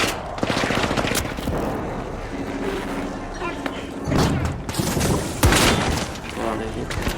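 Rapid gunfire bursts and thuds in the shooter game The Finals, with repeated automatic fire and heavy impacts, loud and close, under someone talking excitedly.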